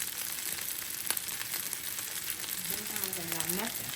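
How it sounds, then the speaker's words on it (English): Hibachi-style food seasoned with black pepper and salt sizzles steadily in a hot pan, a dense, continuous crackling hiss close up, with a faint voice briefly underneath. "as y'all can hear it sizzling"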